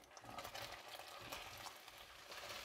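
Mushrooms frying in a hot pan give a close, steady sizzling crackle with busy popping, continuous and unbroken.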